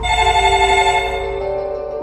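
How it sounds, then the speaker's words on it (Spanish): Cell phone ringtone sounds loud and steady, an electronic ring with bright sustained tones that plays alone with no voices. "Hasta que sonó su celular."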